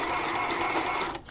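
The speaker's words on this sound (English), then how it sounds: "Okay, so I'm going to start sewing" A sewing machine stitches doll clothes fabric in a steady, continuous whir that runs close and fairly loud for about a second before easing off near the end.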